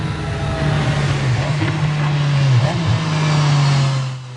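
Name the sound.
sports car engine revving on track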